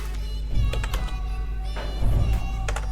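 Keys tapped on a computer keyboard while writing Bengali text on an Ubuntu Linux machine, a few short clustered bursts of close clicks over a steady low hum.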